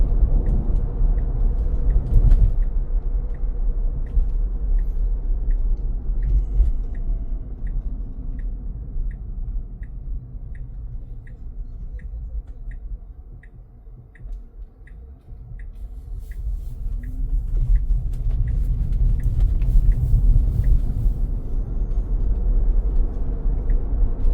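Tesla car driving itself on FSD Beta 12.3, heard from inside the cabin as a low, steady road rumble that fades and swells, with a regular turn-signal ticking in the middle stretch.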